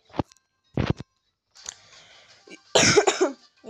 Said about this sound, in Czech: Jsem trošku kašlu, takže to nevadí.